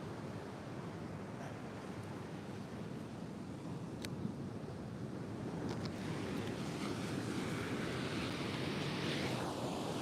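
Steady ocean surf rolls and crashes along a beach with surfers out on the water, a continuous broad wash of breaking waves with wind buffeting the microphone throughout and no talking.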